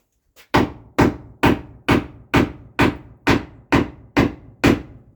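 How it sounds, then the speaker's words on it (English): Ten sharp, evenly spaced hammer blows drive fasteners in during a garage subpanel install, each loud and close with a short ringing decay. "I'm going to hammer them in. They should hammer right in."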